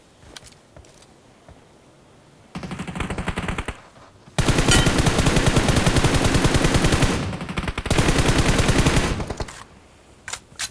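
BGMI gunfire arrives in three long, loud automatic bursts with short gaps of quieter game sound between them, plus a few scattered single shots at the start.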